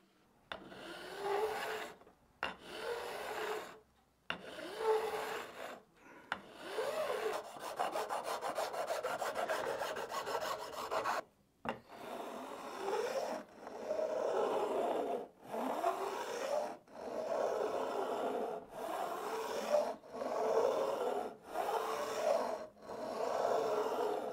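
A file rasps across guitar neck wood to cut a roughly 30-degree bevel. Repeated long, coarse scraping strokes are broken by short pauses and keep up a steady back-and-forth rhythm close by.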